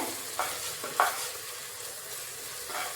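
Ginger garlic paste being sautéed in a pan for Dindigul Thalappakatti biryani, a soft steady sizzle with two brief scrapes of a spoon against the pan.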